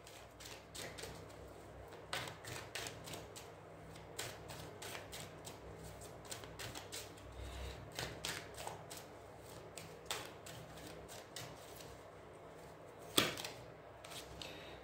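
Tarot cards being handled and shuffled, a long run of soft quick riffling taps and card slaps, close and quiet, with a sharper snap near the end and no voices.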